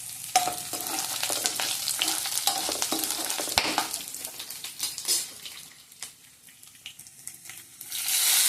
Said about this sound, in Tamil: இப்போ நம்ம அதுக்கு தேவையானது போட்டு வரமிளகாயும் தேங்காவும் ஆட் பண்ணியிருக்கேன்